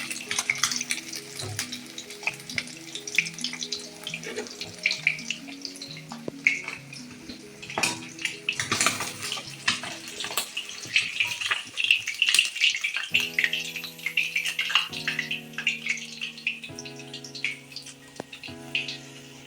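Fish frying in hot oil, a continuous crackling sizzle with bursts of spitting, heard close beneath steady background music.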